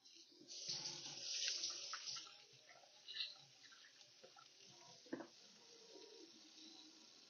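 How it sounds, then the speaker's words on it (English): A kitchen tap runs while hands are washed beneath it, close splashing water swelling and easing over several seconds with small drips and clinks, quiet overall. "now I have to wash my hands real quick"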